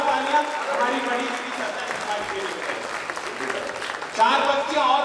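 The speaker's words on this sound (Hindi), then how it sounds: "तालियां बड़ी करिए, पर जोरदार तालियां" An audience at a poetry recital applauds loudly, with sustained clapping from a crowd throughout and a voice speaking over it near the end.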